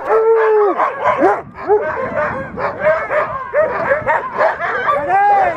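Sled dogs on a tourist dog-sledding outing in Churchill, Canada, barking, yipping and howling in a dense, overlapping chorus close by, with whimpers mixed in and continuing throughout.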